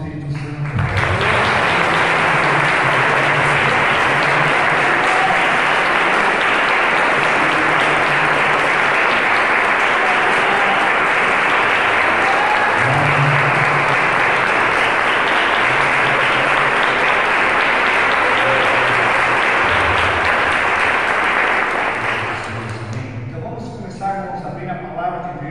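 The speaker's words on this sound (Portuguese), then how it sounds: "vamos dar uma salva de palmas para o Espírito Santo" A church congregation claps together in long, dense, loud applause, steady for about twenty seconds before tapering off, with a preacher's voice resuming briefly at the end.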